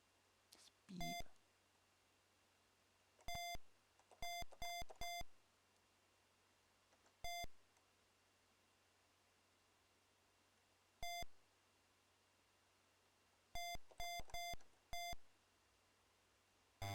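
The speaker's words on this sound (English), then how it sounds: "Beep." An Amstrad video game gives off short electronic beeps, some single and some in quick clusters of three or four, spread irregularly across a long quiet stretch with a faint steady hum underneath.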